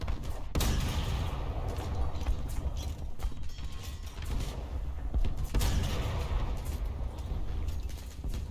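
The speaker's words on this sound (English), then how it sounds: "Oh, something decided to shoot at me." Gunfire aimed at the player in a video game, a few scattered sharp shots over a steady, loud rumble of mechanical game noise.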